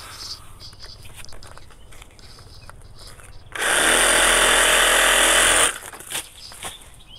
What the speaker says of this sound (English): We're going to get the Sawzall.